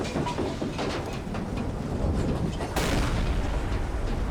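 Deck gun of a U-boat firing in the naval game Silent Hunter 3, a dull booming report over a steady rumbling engine and sea wash, with a sharper, louder burst near the end.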